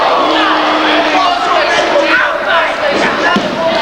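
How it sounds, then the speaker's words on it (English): A wrestling crowd cheers and chants for Flexx throughout, a loud, dense roar of many voices with rhythmic swells, while a commentator talks over it. "You can hear the crowd chanting for Flexx."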